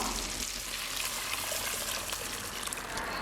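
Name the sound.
tamarind chili powder mixture added to frying onions for fish kulambu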